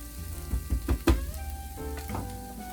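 Meat and vegetables frying together in a pan for Bolognese sauce, a close, steady sizzle with a few sharp scraping and clattering utensil strokes and no voices.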